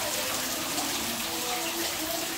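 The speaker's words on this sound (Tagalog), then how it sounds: "Tapos ayun, may tubig siya." Water runs steadily inside a long limestone cave in Japan, a continuous broadband wash with soft trickling texture, close and even throughout.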